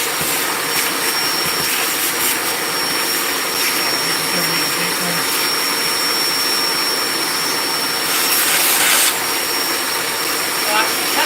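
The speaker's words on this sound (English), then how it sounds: "Pull the vacuum up." A vacuum cleaner runs steadily inside a car, a loud continuous motor whine with rough suction noise that holds for the whole stretch, briefly swelling louder near the end.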